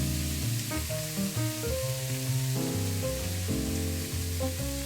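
Ground beef frying in a pan for spaghetti bolognese gives a continuous bright sizzle, partly masked by background music playing over it.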